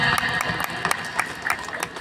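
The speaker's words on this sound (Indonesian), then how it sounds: "tepuk tangan untuk anak-anak DTA 34 kita" Scattered audience clapping for children reciting the Quran at an Islamic school event, moderate and continuous with individual claps audible, plus a faint tonal hum in the background.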